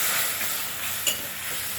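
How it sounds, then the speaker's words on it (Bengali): Spices fry with a little water in a pan with a steady sizzle and a soft stir or scrape near the end, close up and continuous. "আমি সামান্য একটু জল দিয়ে মশলাটাকে আমি ভালো করে ভাজা করে নিয়েছি"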